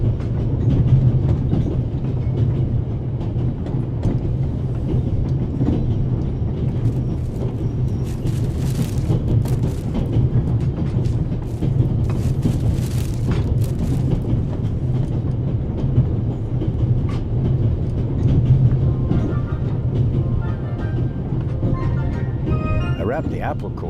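A train ride in the game The Raven - Remastered gives a steady rumbling carriage drone with rhythmic rail clatter throughout, a voice talking over it.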